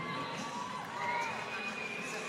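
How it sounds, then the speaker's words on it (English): A crowd at a CrossFit competition cheers the athletes on, a faint, distant wash of shouts and whistles that stays steady, with a couple of shrill whistle-like calls rising above it. "Crowd urging all of the athletes on."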